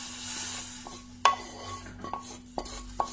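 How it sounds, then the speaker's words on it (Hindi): Roasted vermicelli dropped into hot water in a cooking pan for vermicelli upma, giving a close stirring, sizzling texture with a few sharp clinks of utensil against the pan. "अब मैं उसमें भुना हुआ सेवई डालकर उबाल लेंगे।"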